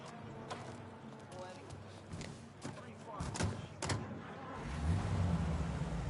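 A car driving in the 1930s-era game Mafia, its engine rumbling low and building toward the end, with people talking over it in the cabin.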